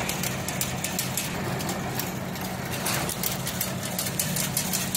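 A chain link fence weaving machine running in automatic mode, giving a steady mechanical drone with rapid repetitive clattering and a low engine-like hum throughout.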